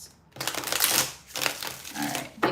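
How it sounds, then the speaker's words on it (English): A tarot deck is shuffled by hand in close, crisp bursts of riffling card flutter, several quick runs separated by short pauses, with no talking. "these did not get shuffled yet, so I'm doing a little longer on that one"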